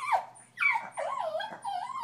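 A dog howling from separation anxiety gives a few close, rising and falling wavering howls and whimpering cries, each held about half a second, with brief gaps between.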